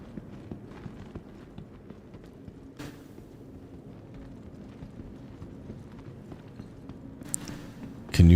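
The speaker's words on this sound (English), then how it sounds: "Can you hear my footsteps?" Footsteps in the video game Star Citizen: a steady run of soft, quick steps under game ambience, with a louder burst at the very end.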